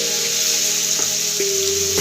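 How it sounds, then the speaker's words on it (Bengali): Marinated chicken pieces frying in a pan, a steady loud sizzle with a faint tonal hum underneath and a few light clinks of stirring. "নিয়ে ম্যারিনেট করা চিকেন যেটা আছে সেইটা এবারে ভাজবো"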